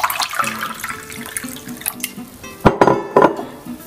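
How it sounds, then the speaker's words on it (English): Water poured into a pot in a kitchen, to be boiled for brewing chicory coffee for a Civil War–era Confederate meal; a short, close splashing pour with a few clinks and knocks of cookware toward the end. "Just boil some water."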